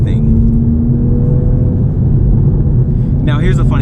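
A 2020 Toyota Supra accelerates with a loud, close engine rumble that swells steadily, with a voice briefly breaking in near the end.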